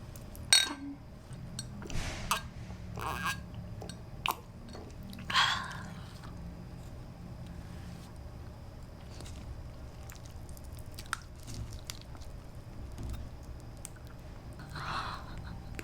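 Soy sauce marinated raw crab, served with egg rice, is eaten close up: wet squishy chews, slurps and occasional sharp bites or clinks of utensils come in scattered bursts over a quiet background, with no speech.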